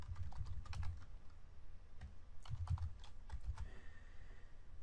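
Quiet, irregular keystrokes on a computer keyboard while entering code in a SQL editor, clustered taps with short pauses and no talking.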